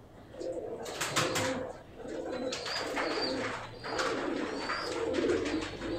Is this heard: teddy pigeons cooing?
yes